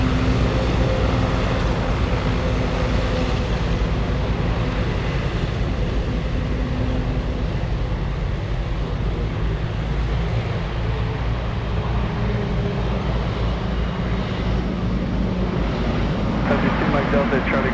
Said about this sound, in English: Let's go over to the China Southern 777 lining up.